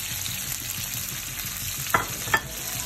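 Broccoli and asparagus fry in melted butter with a steady high sizzle, and two sharp clicks near the end come as the vegetables are moved in the pan.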